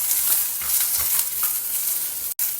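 Chopped onion and tamarind sautéed together in a pan: a loud, steady sizzle with soft stirring strokes throughout, close up and alone.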